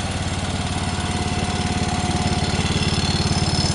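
A Speedex engine runs after a carburetor rebuild with a steady, fast, close putter like a small single-cylinder lawn mower motor, loud and even throughout, with no talk.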